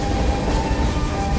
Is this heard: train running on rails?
yes